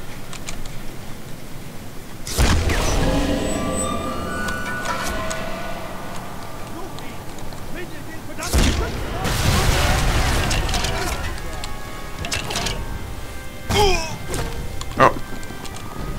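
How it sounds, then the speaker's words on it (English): Explosives going off against enemies in Sniper Elite 3: Afrika, a few sharp blasts and bangs spaced apart over steady game ambience, with someone talking between them. "Okay, so let's just blow them up."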